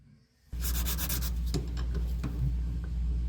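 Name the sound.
block sanding a firearm part with sandpaper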